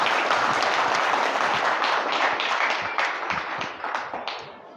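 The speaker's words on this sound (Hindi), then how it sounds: "आप एक बार अपने लिए तालियां बजा लीजिए" An audience at a public meeting gives a sustained round of applause, dense and steady at first and then thinning out toward the end, with no talk over it.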